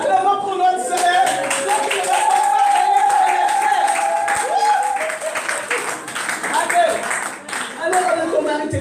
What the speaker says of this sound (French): Allez! Acclamons pour notre Seigneur!